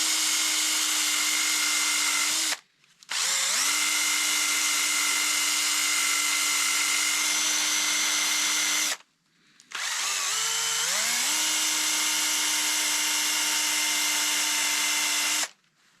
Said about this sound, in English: So now I can chuck that, spin the valve, get it all cleaned up.